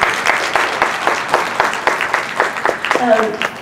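Audience at a high school fall orchestra concert applauds, a loose run of many hands clapping with uneven bursts, fairly close and loud, and a brief tonal sound rises near the end.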